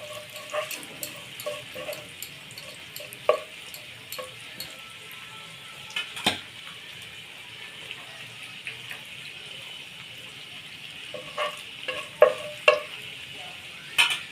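Dry chili, bay leaf and cinnamon sputter softly in hot oil while being stirred for a pabda fish curry, a low steady sizzle broken by a few sharp scraping knocks and clinks near the end.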